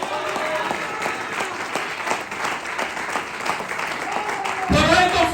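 A church congregation claps steadily in rhythm, a fairly close, busy patter of many hands that swells louder in the final moment.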